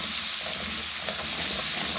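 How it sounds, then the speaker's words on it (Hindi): Ginger garlic paste frying with onions in a hot pan, a dense continuous close sizzle with light scraping from stirring, brief and steady, no talking. "थोड़ा सा इसको भूनेंगे"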